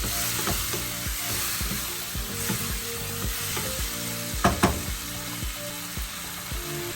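Chili powder and tomato frying in a pan for a bitter gourd and mutton dish: a constant bright sizzle with rhythmic spatula stirs and scrapes knocking against the pan, louder clanks midway.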